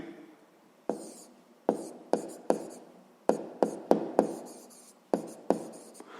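Pen strokes on paper while working a sixth-grade math exercise, a series of about a dozen short scratchy bursts in irregular rhythm, close and clear with no talking.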